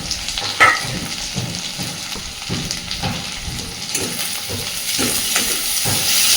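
Small shrimp frying and being stirred with pumpkin in a pan, a steady sizzle broken by scraping spoon strokes, moderately loud and close, with no voices.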